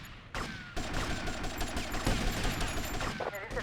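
Dense, continuous gunfire fills a Grand Theft Auto III street fight, with rapid overlapping shots cracking close and loud for several seconds, accompanied by crowd and game noise.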